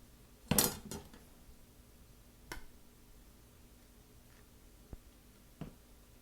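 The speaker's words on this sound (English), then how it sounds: "I am just going to mash up the egg using a fork." A fork clinks against a bowl while mashing boiled egg for avocado egg salad: one sharp clatter, then a few scattered light taps and clicks spread through otherwise quiet room.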